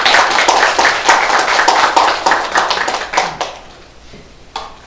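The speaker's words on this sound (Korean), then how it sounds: "힘찬 격려의 박수를 한번 보내주십시오" An audience at a Korean political party leaders' meeting claps together in loud applause. The clapping fades over about three seconds into a few scattered claps.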